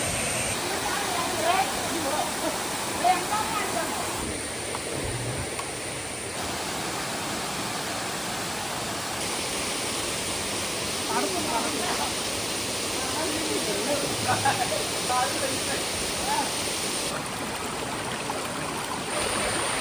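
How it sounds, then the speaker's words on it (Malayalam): Adivaram waterfall, low on water out of season, gives a steady broadband rush of falling and flowing water close by, continuous for the whole stretch with faint voices now and then. "നമ്മൾ അടിവാരം വെള്ളച്ചാട്ടത്തിൻ്റെ സമീപത്ത് നിൽക്കുന്നത്"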